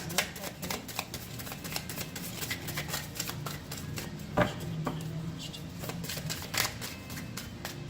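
Tarot cards are shuffled during a Gemini reading, a steady run of quick papery riffles and taps close up, with a louder snap midway and some soft speech in the background.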